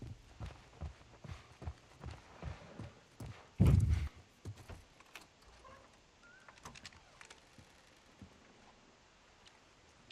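Horse hooves clip-clop in The Last of Us video game as a short run of soft, regular steps, with a loud thump partway through and quieter ambient noise after.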